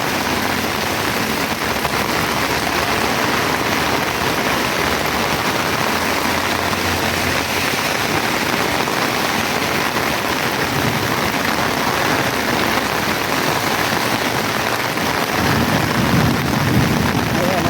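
Heavy rain pours steadily in Macau, a loud, dense hiss that stays constant throughout, with a deeper rumbling swell near the end.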